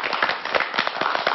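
A television studio audience breaks into brisk clapping, a dense crackle of many hands kept up steadily for a moment with no talk over it.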